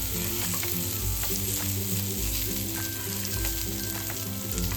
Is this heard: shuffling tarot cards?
no